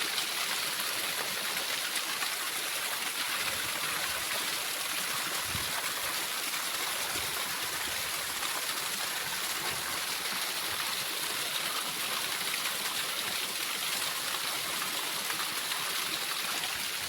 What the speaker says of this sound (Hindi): इस प्रकार के झरने जो होते हैं पहाड़ों पर्वतराज हिमालय से निकलते हुए